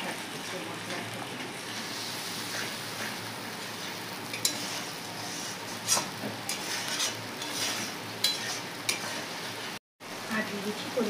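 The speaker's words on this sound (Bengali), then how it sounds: "ভালো করে মশলাটা কষাবো যতক্ষণ না তেল ছাড়ছে মশলা থেকে।" Masala of cumin powder and chili sautéed in oil for a papaya paneer vegetarian curry, a steady sizzle with scattered utensil scrapes and stirring knocks, close and continuous with a brief dropout near the end.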